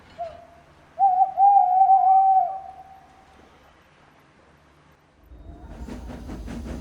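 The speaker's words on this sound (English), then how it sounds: "Whenever that owl hoots, a mist rolls in." An owl hoots a few times, clear and close, in a quiet scene. A low rumble that sounds like a steam train rises near the end.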